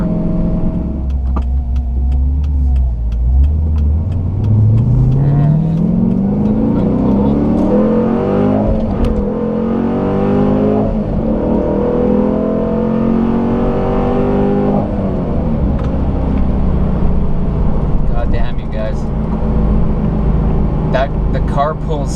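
Car with a newly installed cam and tune accelerating hard, the engine note climbing steadily in pitch through the revs before backing off, loud and close from inside the car.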